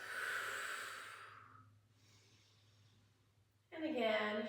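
During a seated senior yoga class, a soft drawn breath through the nose fades into quiet, then a voiced exhale or sigh comes through near the end under a low steady hum.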